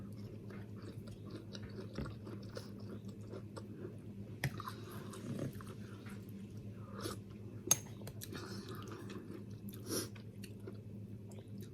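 Someone eats noodle soup with vegetables, and soft, intermittent chewing and slurping bites are heard close up. The sounds are quiet and come over a steady low background hum.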